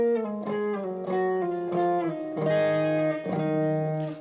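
An electric guitar plays the lead line of Nadie Como Tu as a string of sustained, clearly picked single notes stepping down and then back up, close and alone.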